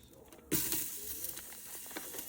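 Chopped onion dropped into a hot pan with no added oil for a Hawaiian-style beef stew, a sudden loud hiss that settles into a steady crackling sizzle.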